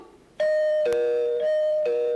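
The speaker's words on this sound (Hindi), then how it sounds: "अरे ऐसे कौन बजा रहा है डोरबेल?" A doorbell chimes twice in quick succession, a bright two-tone ding-dong ringing out clearly and close.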